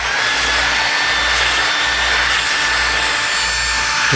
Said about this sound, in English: This is a I believe this is a coarse thread wire wheel here.